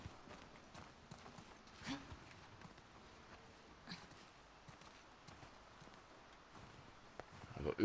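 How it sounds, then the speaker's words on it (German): Horses' hooves clip-clop faintly at a distance in the video game The Last of Us Part II, a few scattered steps over quiet ambient background. "Pferde sind noch da."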